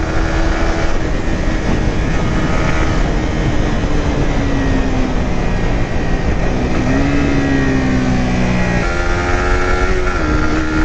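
A Suzuki GSXR 150, a 150cc motorcycle, is ridden with a steady loud engine drone under heavy wind rush, the engine pitch rising and shifting across gear changes, with no voices over it.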